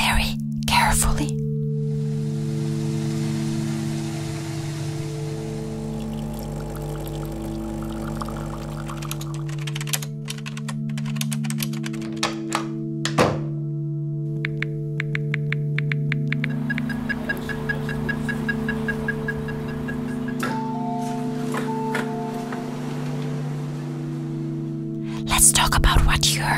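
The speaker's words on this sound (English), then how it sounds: "I could hear a coffee machine and traffic lights." A coffee machine hums and whirs, joined later by repeated electronic beeping from traffic lights at a pedestrian crossing, with faint clicks in between.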